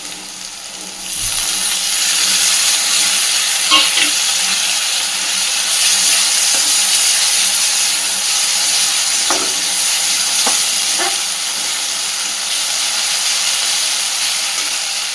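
Ginger-garlic paste frying with onion, tomato and green chili for a potato curry, a loud, steady sizzling hiss that begins after a brief quieter moment, with a few faint clinks of stirring and no talking.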